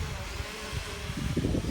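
A Hubsan X4 Pro quadcopter drone flies outdoors in wind, giving a steady, broad buzzing whir that is close and constant throughout, with people talking over it.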